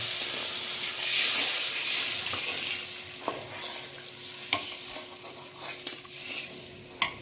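Coconut milk is poured into frying masala and stirred, producing a burst of hissing sizzle and steam that gradually softens, punctuated by sharp spoon clanks against the pan.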